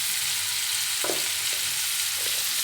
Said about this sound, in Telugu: కొద్దిగా సాల్ట్ వేసిన తర్వాత చూడండి వేడుతున్నాయి బాగా